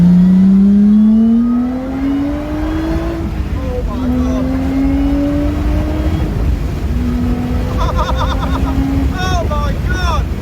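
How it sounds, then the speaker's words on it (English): Lotus Exige V6 fitted with a 2Bular exhaust accelerates hard through the gears, a loud rising engine note with gear changes, heard from inside the car over road and wind noise. "See how loud it really is on full chat."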